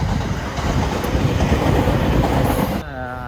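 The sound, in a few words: passing train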